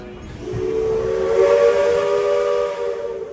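A single long steam whistle from a Walt Disney World Railroad locomotive at Magic Kingdom, sounding loud and sustained for a few seconds with a breathy hiss underneath, heard alone without talk.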